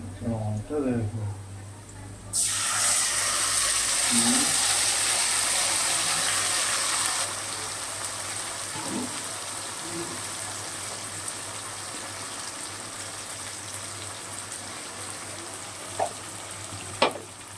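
Katla fish belly pieces dropped into hot oil with browned onion and garlic burst into a loud, close sizzle that settles into steady frying, with a few spatula knocks near the end and someone talking briefly at the start.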